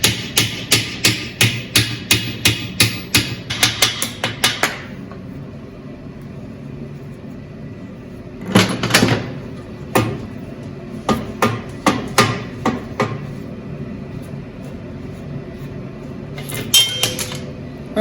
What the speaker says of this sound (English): let's get this castle nut off first